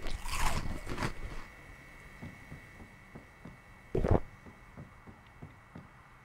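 Food being eaten by a character in the zombie survival game Project Zomboid: a few crunchy bites and chewing sounds, with a louder bite near the end, fairly quiet and without talk.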